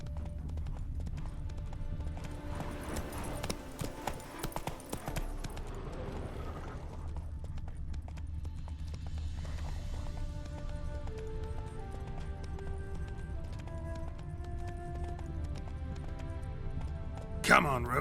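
Hooves of Roach, a horse in the video game The Witcher 3, clop steadily at close range beneath game music and ambience, with a short busier stretch early on.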